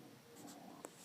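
A pen writes briefly on paper, with a soft, quiet scratching and one sharper stroke near the end, close by and faint.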